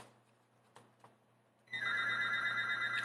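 A telephone suddenly starts ringing in a quiet room where a talk on First Corinthians is being given, its loud, steady electronic ring continuing unbroken after a few soft knocks.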